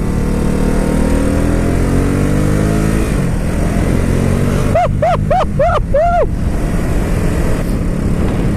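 Ducati Supersport S motorcycle engine droning steadily while being ridden, a continuous close hum with wind noise and a brief cluster of rising whistling tones midway.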